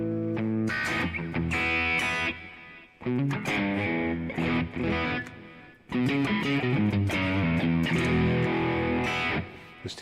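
An electric guitar plays distorted chords and melodic runs through delay and reverb, ringing repeats trailing each phrase, loud and up close, with short pauses between bursts of playing.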